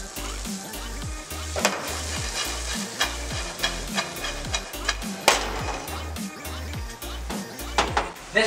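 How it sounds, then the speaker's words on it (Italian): Peas and speck frying in a pan, with a steady sizzle and clinking stirring strokes at close range over a rhythmic low background beat. "devo andare un attimo a friggere i piselli con lo speck"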